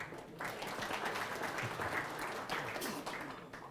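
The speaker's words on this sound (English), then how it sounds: "So vote of thanks, give them a clap." Dinner guests at an institution's end-of-year president's dinner clap in thanks to the council, a moderate burst of scattered handclaps in an air-conditioned hall, somewhat distant and fairly quiet.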